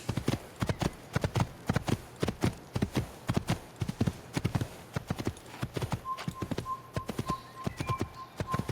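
Horse hooves clip-clop in a fast, steady riding rhythm in the Assassin's Creed video game, loud and close throughout, with a thin sustained tone entering partway through.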